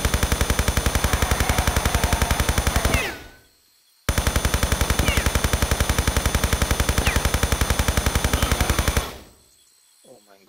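Rapid automatic gunfire from a weapon in Tomb Raider III Remastered, two long bursts of evenly spaced loud shots, each cut off abruptly, with a brief pause between them.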